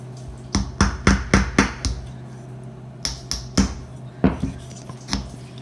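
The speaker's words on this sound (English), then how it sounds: "you're going to make a hole with your hammer." A hammer driving a push pin through the bottom of an aluminum can, heard as a series of sharp metallic taps, a rapid group of about seven, a pause, then several more, close and loud.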